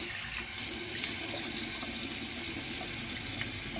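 Hot tap water runs steadily from a faucet into a sink during a shave with Gillette Mach3 and Fusion Power razors, a continuous even gush with no voices.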